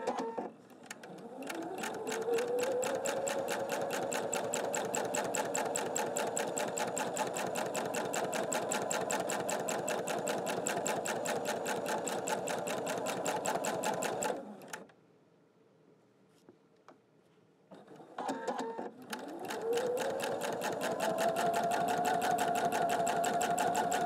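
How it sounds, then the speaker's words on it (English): A sewing machine stitches steadily during free-motion quilting with sheen thread, a close, loud continuous run that stops for a few seconds of near quiet and then starts up again. "moving your fabric under the machine in a circular motion"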